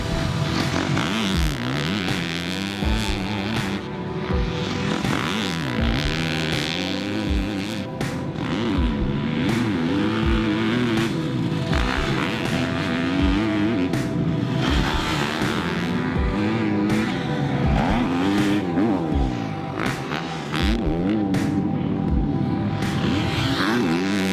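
A Husqvarna FC250 motocross race bike is ridden hard around a rutted, pro-prepped national track, its engine revving up and down in repeated loud surges and shifts, close and continuous.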